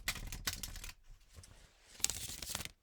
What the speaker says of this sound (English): And then I do a traditional shuffle away from the microphone